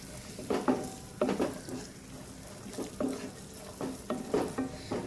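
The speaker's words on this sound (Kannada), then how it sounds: "ಇನ್ನು ಸ್ವಲ್ಪ ದ್ರಾಕ್ಷಿ ಉಬ್ಬಿ ಬರೋವರೆಗೆ ಇದನ್ನು ಫ್ರೈ ಮಾಡಿದರೆ ಆಯಿತು." Raisins frying in ghee for jackfruit sheera, a soft sizzle broken by repeated scraping stirs of a spoon in the pan, fairly quiet and close.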